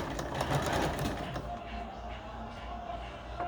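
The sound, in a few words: sewing machine stitching fabric for a bucket hat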